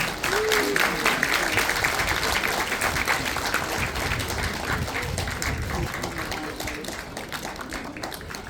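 Wedding guests give a big, sustained round of applause at a Korean wedding ceremony, dense clapping filling the room for over eight seconds and easing off slightly toward the end, with a little crowd murmur underneath.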